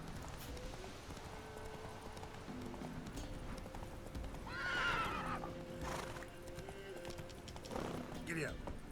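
Roach, a horse in The Witcher 3, gallops with rhythmic clip-clop hoofbeats and whinnies at moderate distance, while in-game music plays under someone talking over the gameplay.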